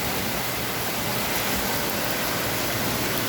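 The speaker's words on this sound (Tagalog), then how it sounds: "Talagang lakas ng ulan." Heavy typhoon rain pours down in a constant, loud, hissing roar with no break and no voices.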